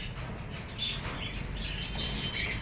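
Diamond doves are let into a cage, giving faint soft chirps and brief wing flutters over a steady background hiss, with no voices.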